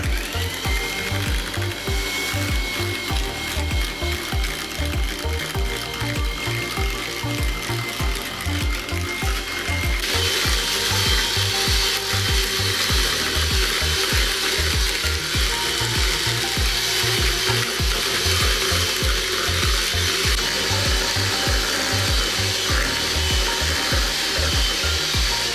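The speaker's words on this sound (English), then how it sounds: "We still use the mixer." Electric mixer beating marble cake batter as oil is poured in, a steady, loud mechanical whirring with a rapid rattling pulse that continues throughout, with the tone brightening partway through.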